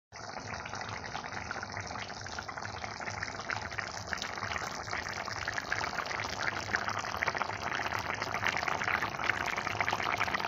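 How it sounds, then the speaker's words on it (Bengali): Water is poured into browned meat curry in a pan, making a steady, continuous rushing pour at moderate loudness that starts abruptly and holds without pause. "কষা রেডি হয়েছে, জল দেব।"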